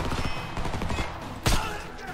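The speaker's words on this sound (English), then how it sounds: "they're shooting at something over in that direction" Gunfire in the Homefront shooter game: a rattle of distant shots under steady battlefield noise, then a single louder, closer report near the end.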